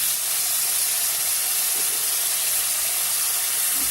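Water splashes into a pan of tomato-onion masala, setting off a loud, steady sizzle and hiss that holds evenly close-up for a few seconds.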